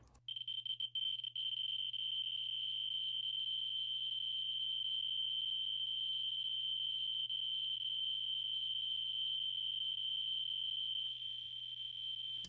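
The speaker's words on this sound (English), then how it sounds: "This meter is going to get very loud." A radiation meter alarm, set off by uranium ore, sounds as a loud, piercing continuous electronic tone that holds steady for over ten seconds without a break.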